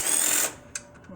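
An impact gun whirring steadily while loosening bolts on a Turbo Eclipse cylinder head, then stopping, followed by a few light metallic clinks and rattles close by.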